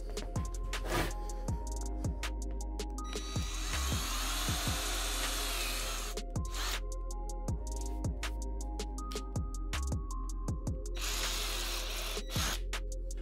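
A Ryobi ONE+ cordless drill driver whines in repeated short bursts as it bores into plexiglass, each burst spinning up and stopping with brief pauses between.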